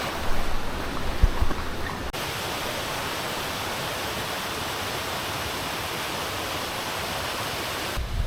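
A river runs across Fairlie Moor in Scotland, its water making a loud, steady, broadband rush close by, with a few handling bumps at the start and abrupt level shifts near the beginning and end.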